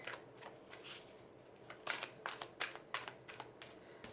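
Tarot cards are shuffled by hand in quick, soft riffling bursts, faint and close, with a denser flurry of flicks toward the end and no speech.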